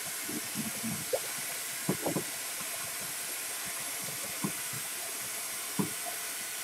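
Water runs steadily from a tap while a frozen turkey is washed, a constant close hiss broken by occasional soft knocks and splashes.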